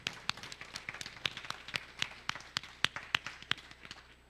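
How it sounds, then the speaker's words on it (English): Audience applause for a speaker at a Devcon workshop in Bogotá, a modest crowd clapping in quick uneven claps at close range for a few seconds, no talking. "One more round of applause"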